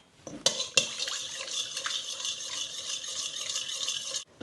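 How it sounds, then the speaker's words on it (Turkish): Spoon stirring cabbage pickle brine mixed with fresh lemon juice and grape vinegar, a steady close scraping and clinking against the bowl with liquid swishing, starting with a couple of sharp knocks. "Hepsini güzelce karıştırıyoruz."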